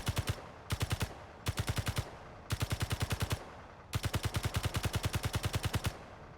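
Bursts of rapid gunfire from a ship weapon in the game Space Engineers: five or six rhythmic volleys of evenly spaced shots, moderately loud, with brief gaps between them and no talking.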